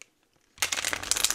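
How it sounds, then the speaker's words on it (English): A deck of cards is shuffled after a moment of silence, a sudden loud riffling burst of rapid papery flutters close to the microphone. "Let's do one more shuffle."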